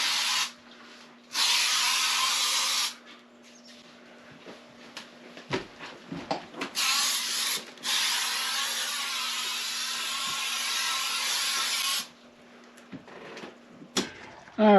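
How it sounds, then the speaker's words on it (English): Pest spray misting through the interior of a fifth wheel trailer, long hissing bursts that start and stop, mixed with nearby clicks and handling noises under a steady low hum. "So let's get this sprayed."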